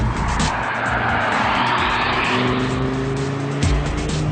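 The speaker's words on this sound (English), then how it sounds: "if you start to tap into that torque, first of all you hear how loud the engine is" A 306-horsepower RS car with a seven-speed S-Tronic dual-clutch gearbox accelerates hard, its loud engine roaring and rising in pitch at close range, with no talk over it.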